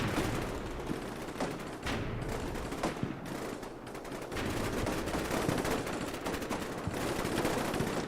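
Sustained gunfire on a building in the war game Combat Mission: Black Sea, a dense, continuous crackle of rifle and machine-gun bursts, loud and unbroken with no voices over it.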